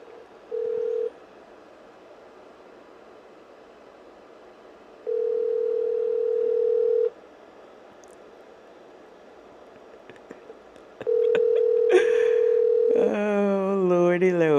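An outgoing telephone call rings back three times with evenly spaced steady tones over quiet room noise, followed by a brief tonal chirp before the line connects.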